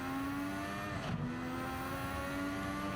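A McLaren MP4/4 Formula 1 car in Gran Turismo 7 holds full throttle toward the line at Sao Paulo, its engine a sustained high-pitched whine with a steady rising tone, loud and continuous throughout.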